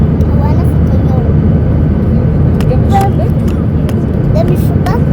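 Steady broadband engine roar fills an airplane cabin in flight, a continuous loud drone with no break, while someone speaks over it.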